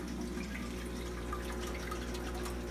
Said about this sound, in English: Once the grow beds fill, they overflow back down into the sump tank.